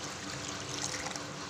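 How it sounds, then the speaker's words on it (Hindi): Four cups of water pour into a fish head curry, heard as a steady, close rush of liquid with no voices. "और अभी मैं इसमें पानी डालूँगी चार कप पानी,"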